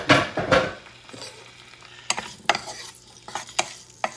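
Salted pork fat sizzles in a pan while a utensil stirs and scrapes it around for a few seconds, with scattered sharp clinks against the pan over a soft frying hiss. Nearby, with no talking.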